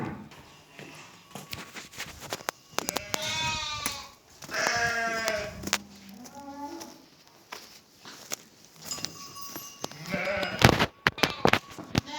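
Several sheep bleat in wavering calls at close range, one after another with short gaps, while footsteps shuffle and a person speaks briefly.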